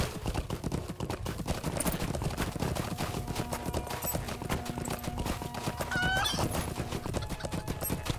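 Horse hooves in a video game, a rapid steady clip-clop of a ridden horse trotting, loud and continuous over a soft game backdrop, with a brief whinny-like tone partway through.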